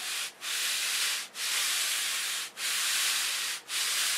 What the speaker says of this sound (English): Run your sanding block over that and true it all up.